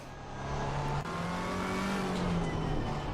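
Race car engine in the sim racing game Assetto Corsa Competizione, a loud steady drone with rising pitch as the car accelerates, briefly dipping near one second, heard alone without talk.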